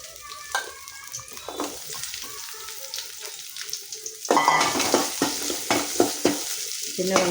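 Small onions sautéing in hot oil with mustard seeds, fenugreek and curry leaves, crackling and sizzling close up while a spoon stirs in repeated strokes; the frying swells noticeably louder partway through.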